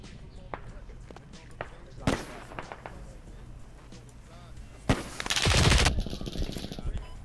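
Gunfire in the military shooter Squad: scattered sharp shots, several close and loud, with a heavier burst near the end, between stretches of quiet talk over radio.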